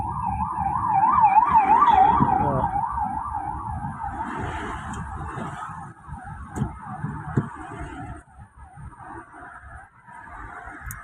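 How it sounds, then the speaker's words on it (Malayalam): A fire engine siren wails in a steady rising-and-falling cycle on a road, loud at first and then fading as it passes, with traffic rumble underneath and no talk. "വണ്ടി ഫയർഫോഴ്സാണ് വരുന്നത്"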